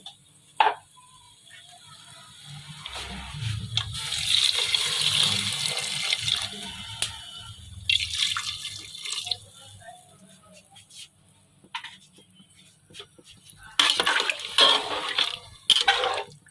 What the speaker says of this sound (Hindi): इसमें करीबन मैं 2 गिलास पानी शामिल कर देती हूँ।